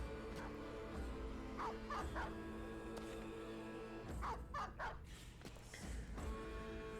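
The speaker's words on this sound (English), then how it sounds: "Cowards, sending their dogs in to die first." Enemy dogs barking in the Battle Brothers video game, fairly faint yips and barks in short clusters over a low background drone.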